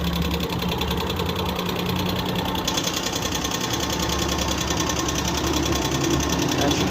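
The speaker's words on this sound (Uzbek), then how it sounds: "Qanday ishlayapti mashina." A carburetor car engine runs at a steady, ticking idle with a fast mechanical clatter, heard close and continuous while someone talks over it.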